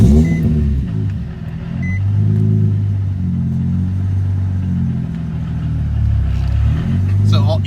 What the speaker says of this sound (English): if you guys can hear that clutch shatter or all that noise, whatever, it's a lightweight flywheel